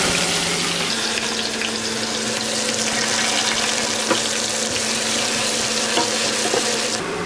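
Chopped onion frying in hot oil in a wok, with garlic already reddened in the pan, giving a steady, close, loud sizzle with faint stirring and clatter throughout, no talking.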